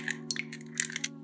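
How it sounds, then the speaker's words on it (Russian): Two eggs cracked into a bowl give a scatter of sharp shell taps and crunchy snaps over a steady electrical hum in a kitchen. "В миску разбиваем 2 яйца."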